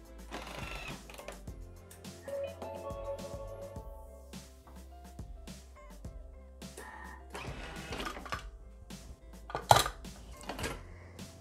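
A Bimby (Thermomix) food processor whirs and rattles as its blade chops dried hazelnuts for 3 seconds at speed 7, a short mechanical burst with clattering clicks and bumps around it.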